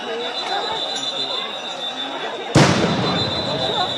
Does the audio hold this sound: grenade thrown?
yes